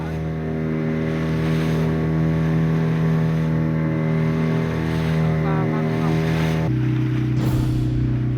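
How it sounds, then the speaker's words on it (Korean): A motorboat from a traditional whaling village slowly follows a whale at sea, its engine droning loudly and steadily with wind and water noise, then shifting pitch near the end. "조급해하지 않고 고래의 이동 경로를 천천히 따라가는 모터배."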